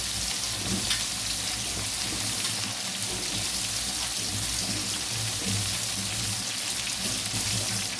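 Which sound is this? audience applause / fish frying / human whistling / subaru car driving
fish frying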